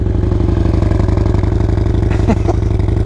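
A stock-exhaust motorcycle idling close up, a loud, steady low throb with even rapid pulses throughout and a faint clatter near the end, no talk over it.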